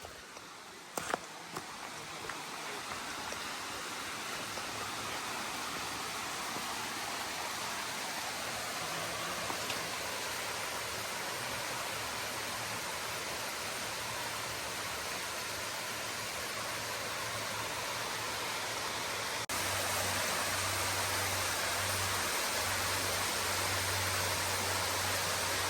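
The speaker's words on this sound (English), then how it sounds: "I hear waterfalls." Distant waterfalls along the Appalachian Trail in a dry, drought-stricken stretch, a steady broad rushing roar that fills the whole scene without pause, slightly louder toward the end.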